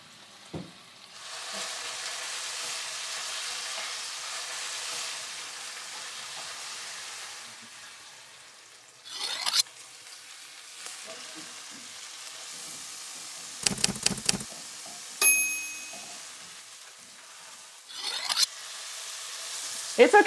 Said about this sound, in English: you want to let it cook for 3 or 4 minutes before moving it so you don't break the sear on the other side